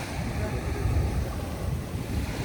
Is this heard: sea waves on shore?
yes